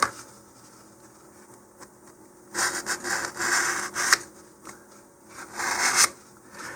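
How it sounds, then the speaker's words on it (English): Sandpaper rubs and scratches the glossy surface of an Estes Big Bertha model rocket body tube, with quiet gaps broken by several close bursts of brisk back-and-forth rasping, and nobody speaking. "I'm just scratching the glossy surface."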